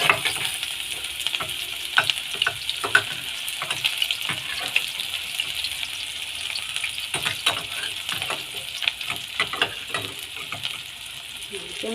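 Garlic, onion and labuyo chili fry in cooking oil with a bright steady sizzle broken by repeated spatula scrapes and stirs, close and clear.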